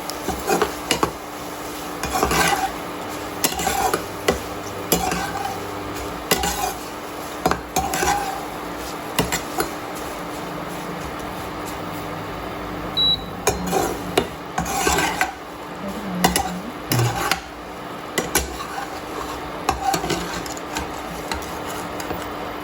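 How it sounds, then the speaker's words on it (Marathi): Stone flower (dagadphool) fries in a pan while whole spices are readied for a Kolhapuri chutney masala. A spatula scrapes and rasps against the metal pan in repeated bursts, with occasional light clinks, close and fairly loud. "आपण दगडफूल तळून घेऊयात"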